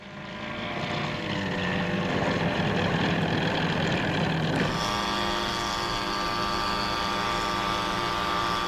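An Outrider unmanned aerial vehicle landing on a runway, its engine and propeller giving a loud continuous droning roar that shifts to a steadier, more tonal hum partway through.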